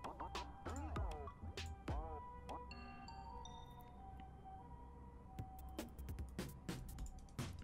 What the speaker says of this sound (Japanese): やべ、救急車来ちゃった。